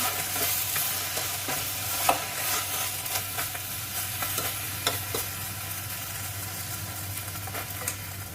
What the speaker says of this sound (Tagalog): Then, i-continue lang natin siyang haluin.